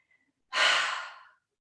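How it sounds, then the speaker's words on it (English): A single forceful breathy exhale during a chair yoga breathing exercise, a close, airy whoosh lasting under a second after near silence, alone without talk. "We're also going to passively inhale and really exert a forceful exhale."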